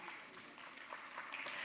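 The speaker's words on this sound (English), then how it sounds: "We can do better with a round of applause" Faint, thin applause from an audience in a literary festival auditorium in Delhi, brief and fairly distant, with a soft murmur underneath.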